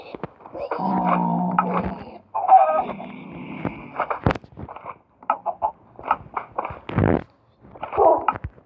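Chicken clucks and squawks in a video game come in short bursts with pauses between, fairly close, with odd synthetic tones mixed in.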